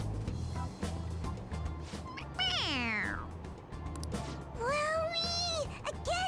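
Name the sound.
toy cat meowing when its head is pressed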